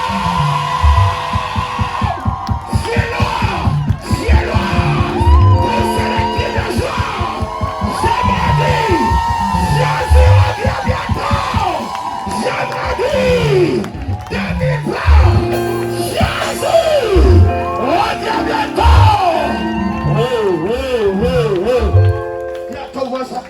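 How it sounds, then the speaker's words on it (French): A church congregation shouts and whoops for joy in a loud, continuous mass of cheering voices and yells, with a preacher's voice rising over the crowd throughout. "Si c'est toi, poussez des cris de joie comme moi."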